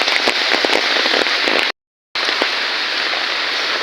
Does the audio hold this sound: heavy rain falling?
yes